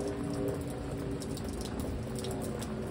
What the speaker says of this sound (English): This rain is completely flooding rain.